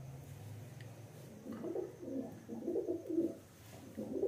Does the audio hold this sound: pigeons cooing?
yes